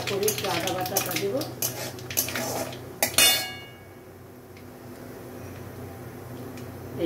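Nigella seeds temper in hot oil in a pot for thick dal while a spoon clinks and scrapes against the metal for about three seconds, then only a quiet low sizzle remains.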